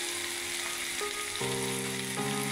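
Ginger and garlic frying with onions in a pan produce a steady, dense sizzle that stays close and even throughout, with faint tonal hum in the background.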